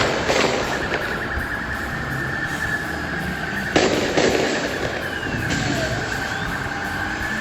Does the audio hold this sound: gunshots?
yes